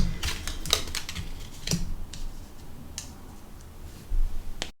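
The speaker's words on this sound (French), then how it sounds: "On va retourner, voilà, hop, ces cartes ici." Tarot cards turned over one after another on a table: a few soft, crisp flicks and slaps spaced about a second apart over a low room hum.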